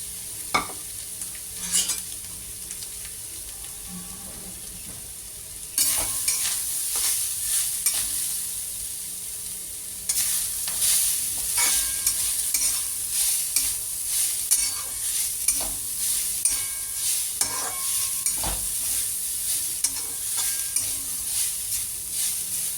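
Grated coconut stirred and roasted in hot ghee, a steady sizzle with repeated scraping strokes of a spoon against the pan, close and continuous, growing louder partway through.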